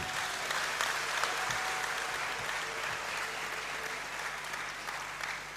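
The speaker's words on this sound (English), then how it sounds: "Graduates, let's show appreciation by a round of applause." A large audience in a great hall applauds new graduates at a university congregation ceremony, a steady roar of many hands clapping that fades slightly toward the end, with no talk over it.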